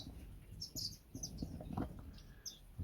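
Small birds, goldfinches, chirp and twitter in quick, high bursts, faint and a little distant, over soft rustling.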